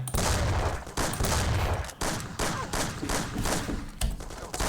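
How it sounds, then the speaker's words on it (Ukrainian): Continuous bursts of automatic rifle fire crackle and thud in rapid succession, loud and dense throughout with only brief gaps, in the video game Mafia: The City of Lost Heaven. "Хто там з автомату стріляє?"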